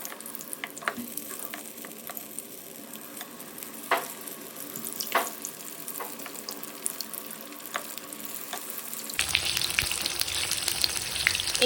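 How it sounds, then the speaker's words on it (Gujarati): Steady sizzling of tomato bhajiya frying in hot oil, with occasional crackles and pops, growing louder and hissier near the end. "હવે આપણે આ જ પ્રમાણે બીજો બેચ પણ તળી લઈશું"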